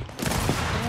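Gunfire from the Gears 5 video game rattles out as a dense, loud, continuous burst of shots, heard close and alone.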